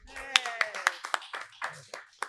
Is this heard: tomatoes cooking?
no